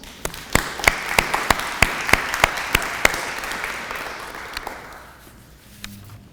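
A crowd at a lunchtime lecture applauds with a burst of sharp claps, the clapping dense at first and then thinning and fading away toward the end.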